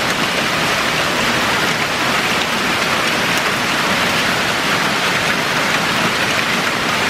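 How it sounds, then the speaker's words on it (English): Steady, dense rainfall pattering all around, a constant even hiss of heavy rain in a Sri Lankan rainforest with no breaks. "stuck in the rain with me"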